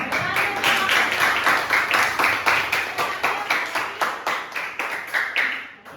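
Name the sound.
audience applause after class presentation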